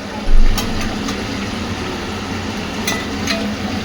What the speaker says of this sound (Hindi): ये ऐसे फ्राई होता है।